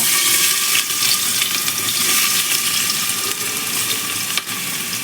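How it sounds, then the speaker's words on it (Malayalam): Sliced onions hit hot coconut oil already holding cloves, cinnamon, cardamom and star anise, giving a loud, continuous hissing sizzle that stays dense and even throughout. "വെളിച്ചെണ്ണ ഇവിടെ ചൂടായി വന്നപ്പോൾ അതിലേക്ക് ഈ വക സാധനങ്ങളൊക്കെ ചേർത്തിട്ട് ഇപ്പോൾ സവാള ചേർത്തോണ്ടിരിക്കണം"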